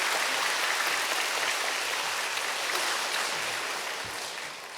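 Steady, dense applause from a congregation welcoming a deacon forward during an intergenerational church worship service, fairly loud and sustained throughout, fading slightly at the end, with no talking.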